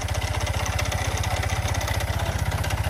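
A motorcycle engine idles close by with a fast, even mechanical clatter, its noisy Bendix starter drive rattling steadily throughout, no voices.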